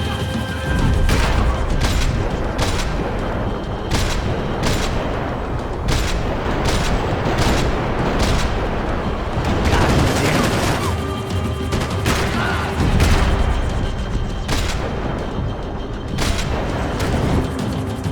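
Max Payne 3 shootout with loud, repeated gunshots cracking out in an irregular rhythm over roughly eighteen seconds, mixed with crashes, mechanical clatter and an engine-like background roar.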